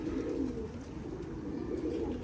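Pigeons cooing on a rooftop loft, low soft throaty coos rolling continuously at moderate distance, with no talk over them.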